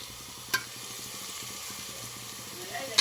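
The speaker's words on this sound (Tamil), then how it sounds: "இஞ்சி பூண்டு பேஸ்ட்டு போட்டு கிண்டுறாங்க" Ginger garlic paste sizzles steadily in hot oil in a pan for a country chicken curry, with a spoon scraping and stirring through a continuous close hiss and one sharp clack near the start.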